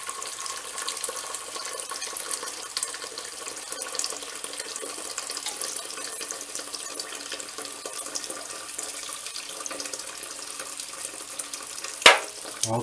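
A steady stream of water pours into a pot, hissing and splashing continuously at moderate volume, with a brief clank near the end.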